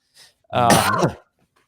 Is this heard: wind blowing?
no